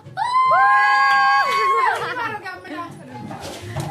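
Children shout and scream together, led by one long, piercing shriek, followed by a noisy jumble of excited young voices at a lively family gathering.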